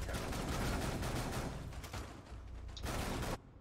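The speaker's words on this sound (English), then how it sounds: "I don't know how to shoot these guns at all." Dense, rapid bursts of automatic gunfire in the Rainbow Six video game, loud and continuous with short pauses, cutting off abruptly near the end.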